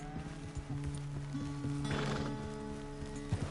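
Horse hooves clip-clopping in Red Dead Redemption 2, irregular close thuds mixed with a horse's snorting and whinnying over sustained game music, no speech.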